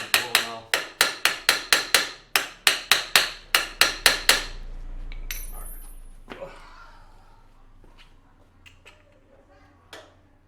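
Around a dozen sharp metallic hammer strikes land in a quick, steady rhythm on a part of a 2021 Kymco Mongoose 270 ATV, then stop, leaving faint clicks and a low hum.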